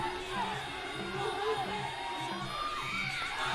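A crowd cheers and shouts continuously at a boxing match, at a moderate distance, a steady roar of voices with occasional louder calls rising above it.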